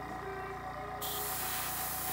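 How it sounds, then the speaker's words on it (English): A soft, steady hiss of an airbrush spraying a wet metallic base coat on a scale model aircraft, growing brighter and louder after a second and continuing evenly. "you want to spray it on pretty wet."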